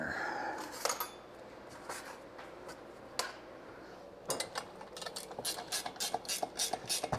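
A ratchet tightens bolts while an engine is mounted on an engine stand: scattered metallic clicks and clanks at first, then a run of quick, rapid ratcheting clicks near at hand, with no talk.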